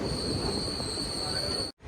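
At Koyilandy railway station an arriving mail train gives off a sustained high wheel squeal over a broad rolling rumble, close and continuous until it cuts off abruptly near the end.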